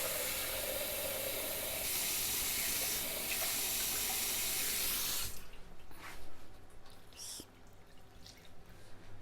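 Cold water, about 300 millilitres, pours into a mixing bowl as a loud, steady hissing for about five seconds, then stops, leaving quieter clinks and rustles.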